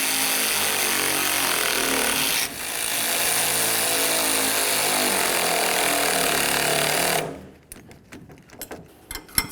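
A power tool whirs continuously at close range while tightening the clamps on a tie rod adjusting sleeve of a 1988-2000 Chevy C/K1500, briefly dipping once, then cutting off into a few scattered clicks and knocks.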